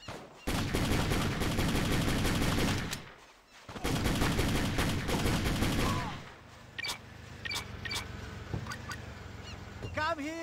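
Sustained automatic gunfire from the video game Just Cause, loud dense bursts that pause briefly, then give way to scattered single shots, chirps and effects.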